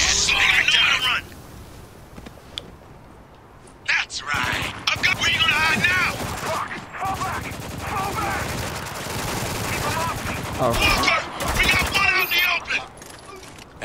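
Rapid bursts of automatic gunfire and shots from the Spec Ops: The Line video game crackle through a firefight, with in-game voices speaking between and over the shooting and short pauses breaking the action.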